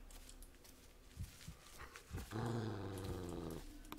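In the Blair Witch video game, a dog growls low and rumbling for about a second and a half near the end, following a few soft thumps and footsteps in a quiet scene.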